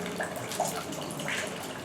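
Water from a tap runs steadily as hands are rinsed during a hand-washing demonstration at a clinic, a soft continuous splashing with small drips and no talking.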